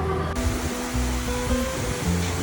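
A steaming stream of water flows through the thermal valley of Beitou, Taiwan's hot spring district. It makes a continuous, fairly loud rushing wash with a low hum beneath it, and no voices.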